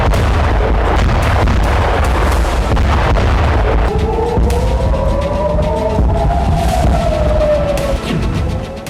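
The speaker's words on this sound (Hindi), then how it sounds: "हाइफा में 50 से ज्यादा रॉकेट फायर किए गए।" Rocket fire and explosions over Haifa during a barrage of more than fifty rockets, heavy booms and rumbling blasts throughout, with a rising and falling whistling tone of incoming or intercepted rockets in the latter half.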